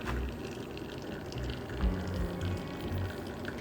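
Water pours steadily over ground coffee with a soft gurgling trickle, continuous and close, with a slight bubbling swell midway; no one speaks.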